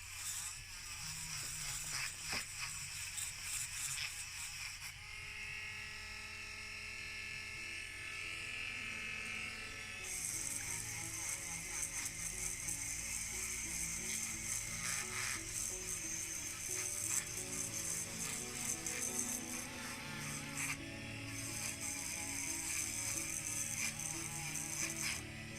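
A Tacklife rotary tool polishes the base of a Matchbox S&S Cadillac ambulance die-cast car, giving a steady high-pitched whine with rattling, scraping contact that shifts in pitch and intensity as the tool works the metal.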